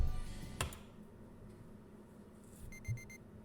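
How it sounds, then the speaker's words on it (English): A wristwatch alarm gives a quick run of four faint, high, evenly spaced beeps near the end, with a sharp click and quiet room noise before it. "My watch alarm. My watch also has alarm."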